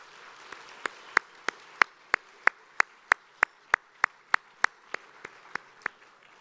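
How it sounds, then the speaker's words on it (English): At an anniversary awards gala, one pair of hands claps in a crisp, even rhythm close by, standing out over a soft, continuous bed of crowd applause for the honorees. "Let's give all of our honorees another round of applause."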